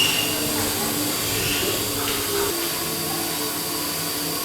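Powder coating spray gun fitted with a round nozzle, blowing powder in a steady, loud, even airy hiss and hum that runs without break through the whole stretch.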